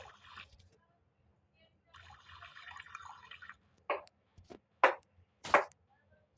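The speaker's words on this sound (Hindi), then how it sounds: "फिर वो ग्लास निकालती हैं और बोतल निकालती हैं और ग्लास में पानी भर देती हैं।" Water poured from a bottle into a glass in a home setting, heard as short wet splashes and drips, quiet at first and then louder bursts near the end, between stretches of near silence.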